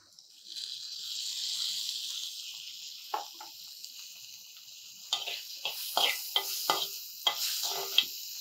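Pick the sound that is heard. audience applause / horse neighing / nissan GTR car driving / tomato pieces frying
tomato pieces frying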